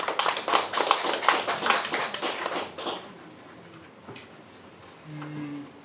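A short burst of hand clapping from a small gathered audience at a memorial discussion event rings out for about three seconds, then fades into quiet room sounds and a faint hum.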